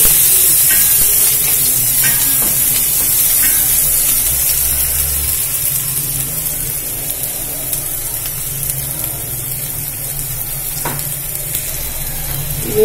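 Onions sauté in a pan for a cluster bean usili dish, a loud, continuous frying sizzle and hiss close by, with a few faint utensil clicks scattered through and no one talking.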